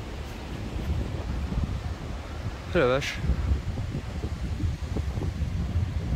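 Foehn storm wind gusting at around 80 km/h roars steadily through trees, a dense broadband rush that never lets up, with a brief exclaiming voice near the middle.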